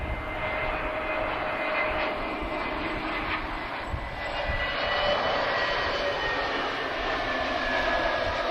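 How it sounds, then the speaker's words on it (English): Jet engines of an EasyJet airliner at Lisbon Airport, a broad, steady roar with a rising whine, heard from a distance and holding constant throughout with no voices. "We've also got an EasyJet just pushed back as well."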